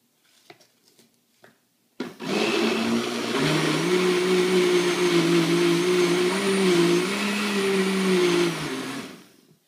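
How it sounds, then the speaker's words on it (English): After a few light clicks, a blender motor kicks on and whirs loudly and steadily for several seconds blending a post-workout shake, its pitch wavering slightly before it winds down. "maybe let me blend it a tiny bit"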